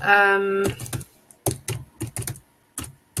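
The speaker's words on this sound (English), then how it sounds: "while she's typing that" Someone types on a computer keyboard in quick irregular bursts of crisp, close clicks separated by short pauses, following a brief sustained tone at the start.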